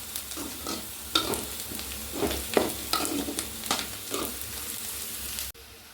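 Onions for a mutton curry fry in a pan with a constant close sizzle and repeated stirring scrapes, then the sound cuts off abruptly near the end.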